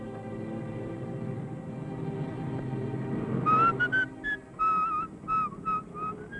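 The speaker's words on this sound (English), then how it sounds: "You're whistling" A person whistles a short, wavering tune in several brief bursts, clear and close, emerging after a few seconds of low background hum.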